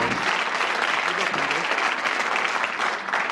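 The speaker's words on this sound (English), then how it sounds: "Give them a nice round of applause." A television game show studio audience claps for the contestant couple, a loud, sustained burst of applause with a host's voice faintly mixed underneath.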